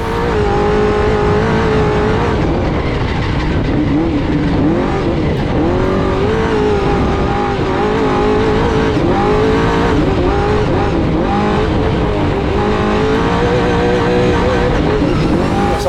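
Race truck engine winding up through the gears, a loud continuous roar that climbs and drops in pitch with each shift, close and steady for the whole stretch.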